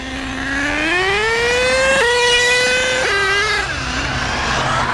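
A stock vintage HPI Savage XL K5.9 nitro RC truck with a three-speed transmission screams steadily at high revs, pitch climbing through gear shifts, loud and close with no talking.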